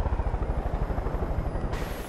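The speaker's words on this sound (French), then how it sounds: "J'ai un hélico là, un hélico ici" A helicopter in the video game Far Cry 5 thunders up close with a steady, fast rotor chop throughout, loud and continuous with no talk over it.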